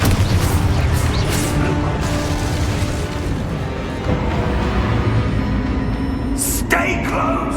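An Expulso spell explosion in Hogwarts Legacy, a loud, sustained rumbling blast that rolls on for several seconds, followed by a sharp crackling burst near the end.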